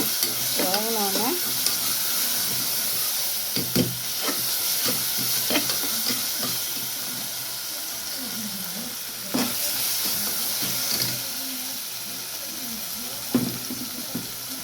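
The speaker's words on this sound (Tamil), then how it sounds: "தக்காளி நல்லா வதங்கிட்டு இருக்கு." Tomatoes sizzle steadily as they are stirred and sautéed in a pan for mutton mittah sahan with potato, with spoon scrapes and clinks breaking through the constant frying hiss.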